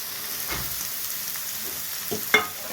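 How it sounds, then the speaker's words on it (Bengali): Cabbage frying in a pan with cumin and dried chilli, a steady close sizzle with a few sharper stirring scrapes and a clatter near the end, no voices. "বাঁধাকপিটা ভাজা ভাজা হচ্ছে"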